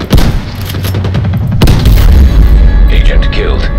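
Hunting rifle shots in a shooter video game: two loud booming blasts about a second and a half apart, each trailing into a rumble, heard close with a voice talking over them.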